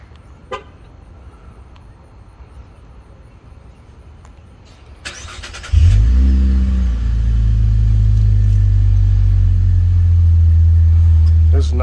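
A 2013 Cadillac CTS Premium with a Cherry Bomb exhaust cold-starts near the listener: a quiet stretch, a brief starter crank, then a sudden loud, throaty idle that holds steady to the end.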